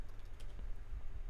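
Typing on a computer keyboard, a short burst of soft, quick key taps at close range with a low steady hum underneath and no talking.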